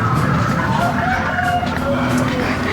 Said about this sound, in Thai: แอบมีเสียงไก่อยู่นิดนึ่ตรงไหนอะไรอย่างเงี้ย